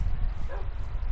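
Minecraft wolves give a single short yip in a forest during an illager raid battle, heard over a low, rumbling game soundtrack.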